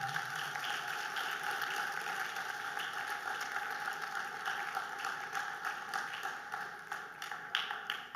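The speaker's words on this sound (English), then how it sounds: "I will ask you to give the debaters a round of applause." An audience at a Leeward Islands debating competition semi-final applauds the debaters, a faint, continuous patter of many hands heard from a distance for several seconds.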